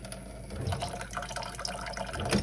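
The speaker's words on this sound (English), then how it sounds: "I'm adding some cold water in there." Cold water is poured into a container of hot water, giving a steady close trickle and splash without pause and with no voices.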